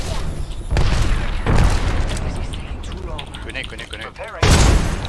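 Grenade blasts and gunfire from the Apex Legends shooter game, with heavy booming bursts near the start, middle and end and scattered shots between them, while players talk over the action.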